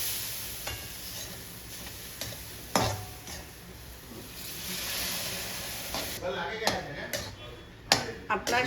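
Milk poured little by little into roasted semolina for prasad sheera sizzles and hisses in the pan, with clinks and stirring taps throughout and a voice talking over it.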